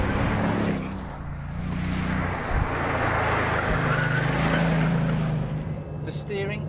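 Bugatti Veyron Super Sport under full-throttle acceleration, a loud sustained engine roar with rising tone heard from inside the car, with road and wind noise building around it.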